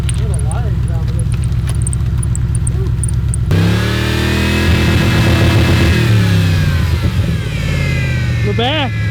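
A twin-turbo LS engine in a Chevrolet Blazer build cranks and fires up after a few seconds of voices, then revs up and down loudly and close by, settling into a rough idle between revs.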